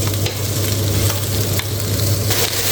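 Sweet and sour chicken sauce cooking in a pan gives a steady, loud sizzle with stirring scrapes throughout, close and continuous, with no talking.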